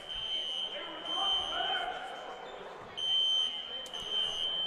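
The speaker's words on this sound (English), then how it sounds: "It goes as the fire alarm is going off." A fire alarm sounds inside a basketball gym during a men's college game, a steady piercing high tone pulsing in long bursts over crowd murmur and a commentator talking.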